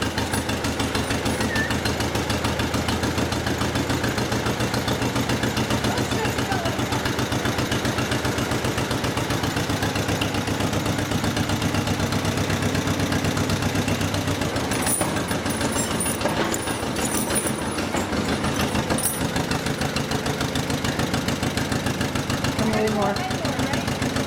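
A tractor engine idles steadily for the whole stretch, a constant low rumbling drone close by, with people talking intermittently over it.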